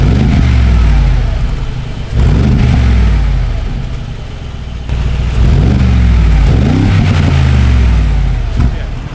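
A Mercedes G63 AMG's engine surges up in revs three times in a row, a loud, close growl that rises in pitch with each push of the throttle and then eases off between pulls.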